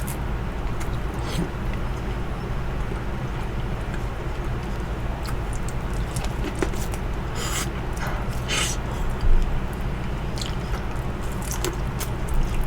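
Close, wet biting and chewing of corn from a seafood boil, with repeated crunchy bites and mouth squelches over a steady background hum.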